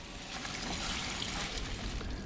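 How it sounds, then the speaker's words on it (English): Pump-fed water runs from a faucet on an adventure rig, a steady close hiss of flowing water that continues without a break. "when you turn it on, water comes out."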